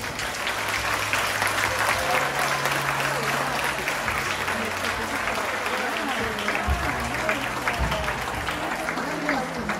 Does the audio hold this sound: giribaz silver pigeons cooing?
no